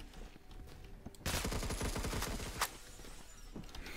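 A Honey Badger rifle firing fully automatic in Roblox Phantom Forces, a fast rattling burst of more than a second, then a sharp single crack and a few quieter trailing shots.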